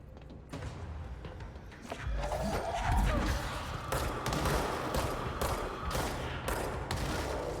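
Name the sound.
explosions in the video game Control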